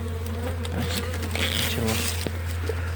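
Honeybees buzz around their hives, several wings whirring close to the ear over a steady low drone, with passing individual bees rising and fading.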